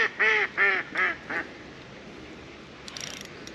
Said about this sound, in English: Yeah, the ducks love them as well.